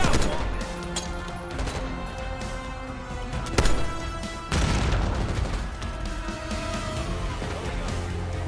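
A grenade blast in the Call of Duty Black Ops 6 video game booms amid bursts of gunfire and crashing debris, loud and dense, with a second heavy impact midway and continuing rumble after.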